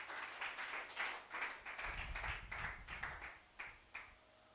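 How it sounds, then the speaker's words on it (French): Congregation clapping at a church camp sermon, a dense burst of many hands that swells through the middle and then breaks into a few scattered, separate claps near the end. "Acclame puissamment pour ce chapitre."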